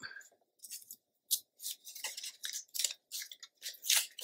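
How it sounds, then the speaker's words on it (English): An X-Acto knife hand-trims paper for a mini album, giving a series of short, crisp scraping cuts at an uneven pace, close and fairly quiet, with silent gaps between strokes. "And then just hand trim this."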